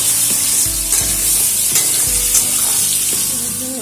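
New potatoes fry in a pan with salt, a loud steady sizzle with stirring scrapes and a few dull knocks against the pan, and no one speaking.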